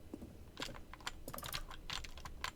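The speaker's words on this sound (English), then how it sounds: "It's keyboard sounds." Soft, rapid computer keyboard clatter from The Stanley Parable video game, an irregular burst of quick keystrokes heard alone at low volume.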